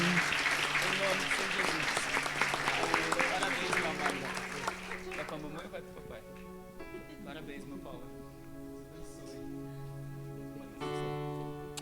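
A church congregation applauding during a worship service, dense clapping that fades as singing voices and instruments take over with sustained tones.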